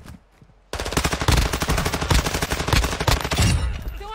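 Rapid automatic gunfire in Call of Duty Warzone, a dense, loud burst of machine-gun shots breaking in after a brief quiet moment and then tapering off.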